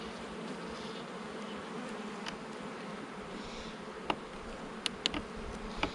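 Honey bees swarm around an open beehive during an inspection, a steady close buzzing hum with scattered faint clicks and taps of handling near the end.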